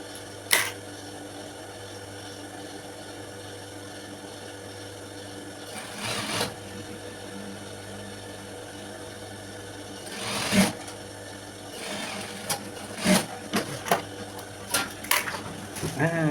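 A sewing machine stitches a seam on a school skirt in short intermittent bursts of whirring and clatter, separated by quieter pauses with fabric handling, heard close up.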